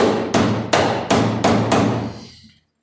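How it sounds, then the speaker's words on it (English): A dolly hammer strikes the rusted body metal of a 1978 Camaro during rust repair, six sharp metallic blows at a steady rhythm, close and loud, ringing briefly before silence. "This dolly hammer I got"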